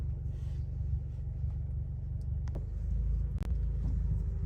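A manual car engine idles and rumbles low and steady as the car pulls away in first gear with a little gas, with a couple of brief knocks near the end.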